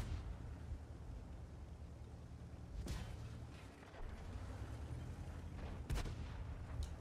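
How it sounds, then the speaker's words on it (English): Artillery fire in the video game World of Tanks, with two heavy booming impacts a few seconds apart over a constant low rumble, fairly loud. "Alright, artillery's got us."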